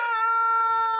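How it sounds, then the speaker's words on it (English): A white rooster, half giant breed, crowing in a homestead coop: one sustained, bright, steady crow, close and loud, with no other sounds around it. "This right here is our white rooster gang."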